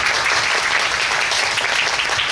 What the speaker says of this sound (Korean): 스태프분들한테도 박수 한번 부탁드립니다